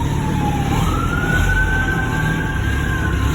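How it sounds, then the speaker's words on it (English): Sirens of passing ambulances or police cars heard from a house, a rising wail sliding upward and holding steady, under a steady idling rumble from a warming 1949 MG YT engine; no speech. "For some reason there are some ambulances or police cars going by my house here"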